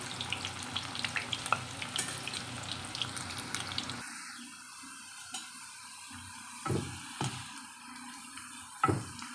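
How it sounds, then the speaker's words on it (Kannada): Bitter gourd slices frying in hot oil, a steady close crackling sizzle that continues throughout, with a few scraping stir strokes in the latter half and no talking. "ಎಣ್ಣೆಯಲ್ಲಿ ಹಾಕೊಂಡು ಚೆನ್ನಾಗಿ ರೋಸ್ಟಾಗಿ ಫ್ರೈ ಮಾಡ್ಕೋಬೇಕು ಗರಿ ಗರಿ ಬರಬೇಕು"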